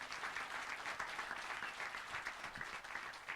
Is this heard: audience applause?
yes